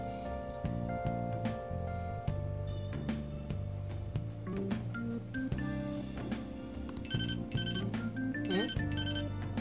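A phone ringtone plays a bright looping melody, steady and clear, heard alone during a Persona 5 game stream.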